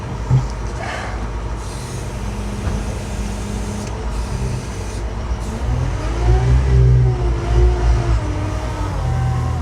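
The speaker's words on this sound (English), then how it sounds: "Say hello to my little friend, Mr. Telehandler." A telehandler drives at a construction site during a crawler crane build, with a loud steady diesel engine rumble and rising engine tone partway through, close by and alone with no talking.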